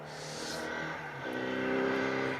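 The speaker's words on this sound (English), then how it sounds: "you've got cars coming your way, I can hear them" A rally car engine drones steadily on a forest stage in North Wales, then shifts up in pitch as it accelerates, sounding moderately close with no voices.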